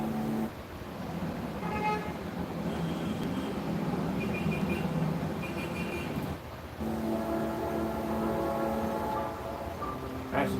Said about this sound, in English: That's the train in the background.